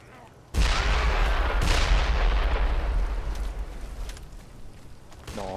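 A gunshot at barrels in the zombie game Dead Island Riptide cracks sharply after a quiet start, followed by a heavy, booming rumble that slowly fades over the next few seconds.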